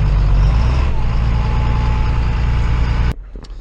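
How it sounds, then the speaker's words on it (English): A grain auger running beside a truck unloads corn during harvest, producing a loud, steady mechanical drone that cuts off abruptly near the end, leaving quieter background sounds. "I'm going to turn my auger on and put some in the truck"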